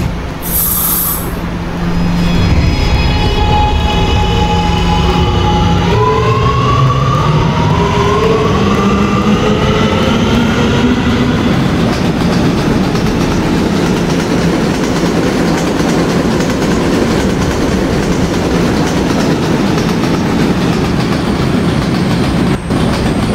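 A Roblox R211A subway train on the R line pulls out of a station, rising motor whine tones sweeping upward over loud, steady rumbling and clattering wheels, continuous and close throughout.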